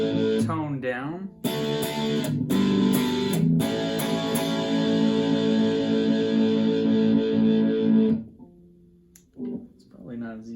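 Electric guitar with humbucker pickups, tone turned down, through a distortion effect plays sustained chords for several seconds, with brief vocal sounds just before and after.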